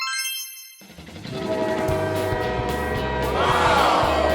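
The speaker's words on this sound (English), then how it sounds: "It lands and turns into a glowing train in their yard." A cartoon magic train from Peppa Pig swells in with a bright shimmering tone, followed by a steady rumbling rolling chug and a rising glowing whoosh near the end, with no talking.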